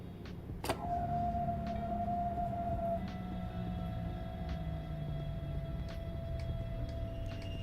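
A train passes in the Train Sim World 4 video game, a steady rumbling roll with a sustained whine and periodic clicks of wheels over rail joints, loud and continuous throughout.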